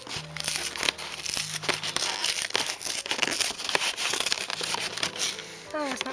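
Cardboard and plastic packaging of a Pokémon Shining Legends Marshadow pin collection box is pulled open, with crinkling and tearing sounds and a few soft knocks, as a person talks over it.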